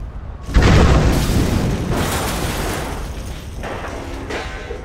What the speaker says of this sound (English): I just want to watch the explosion.